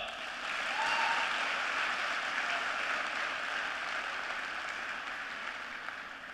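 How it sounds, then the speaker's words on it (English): Steady audience applause from a large seated gathering at a talk fills the room, an even wash of clapping that gradually thins toward the end. "please give me a good round of applause"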